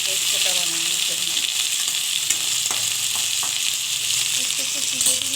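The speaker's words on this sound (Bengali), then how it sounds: "ভালো করে ভেজে নিতে হবে ভেন্ডি পোস্তটা বানানোর জন্য" Okra frying in hot oil in a pan for a poppy-seed posto dish, giving a steady, loud, close sizzle throughout with occasional stirring clicks and pops.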